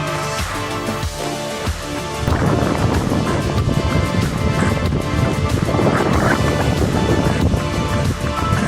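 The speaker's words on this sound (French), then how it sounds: "on prend le vent là." Wind buffeting the microphone of a runner out training in the heat, a loud, continuous rushing roar that jumps in intensity after a couple of seconds and stays strong.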